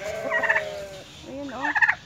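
A white turkey kept among chickens gobbles twice in quick rattling bursts, close by, with faint background noise between calls.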